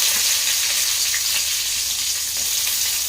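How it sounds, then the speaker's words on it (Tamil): Onions frying for a Tamil-style fish curry give a steady, close sizzle with a fine crackle that holds even across the whole stretch, with no voices. "வெங்காயம் நல்லா வதங்கணும்"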